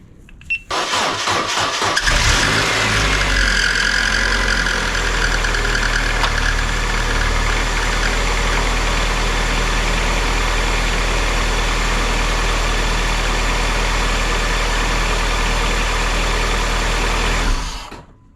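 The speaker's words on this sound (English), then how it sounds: "The car just started up." A Saturn car's engine cranks a few times, catches and settles into a loud, steady idle close by, running for about fifteen seconds before cutting off, with a weak battery and a motor mount just put back.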